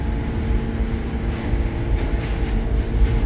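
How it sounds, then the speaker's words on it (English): An R68A subway train running W service rolls through a station on the NYC Subway at Astoria Ditmars Blvd, a steady low rumble of wheels and motors with a faint metallic screech. "Ah yes, an R68A W train."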